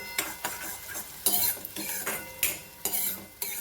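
Chopped onion being sautéed for a multigrain millet thalipeeth bhajani dish, with repeated stirring scrapes of a spoon against the pan over a soft sizzle, close up, no talk.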